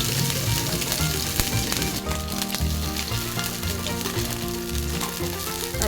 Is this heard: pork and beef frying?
yes